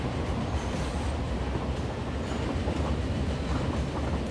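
Trains in the Transport Fever game rolling past and pulling in at a busy station, a steady dense rumble with rail clatter running throughout, loud and continuous with no talking.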